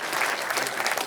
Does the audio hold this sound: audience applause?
yes